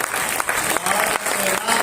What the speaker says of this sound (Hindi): आपकी कमजोर तालियों के बीच में एक लाइन कह रहा हूं।